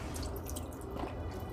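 Excess water pours and drips from the corner of a seedling tray, a steady dense splashing trickle that runs unbroken from start to finish, close and fairly loud.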